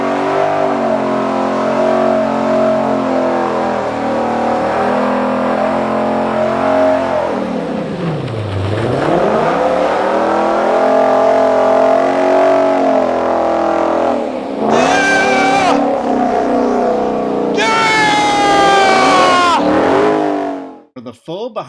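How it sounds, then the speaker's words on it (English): A 2020 Shelby GT500 doing a tire-shredding burnout in front of Weikert Ford: a loud, sustained engine roar that rises and falls in pitch, with sharp high-revving bursts near the end and voices in the background. "they continued a tradition of doing a burnout right in front of Weikert Ford"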